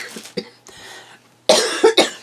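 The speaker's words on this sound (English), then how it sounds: "I've made it almost all the way through this video without coughing." Several bursts of coughing from one person close by, a couple of short hacks followed by a louder, harsher cluster of coughs at the end, with no talking.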